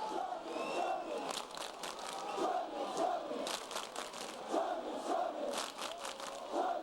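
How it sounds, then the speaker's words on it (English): A large crowd roars steadily through the fourth quarter of a Class AA high school sectional basketball game between New Trier and Schaumburg, with dense, continuous cheering and shouting that swells and dips. "Obviously, a huge crowd."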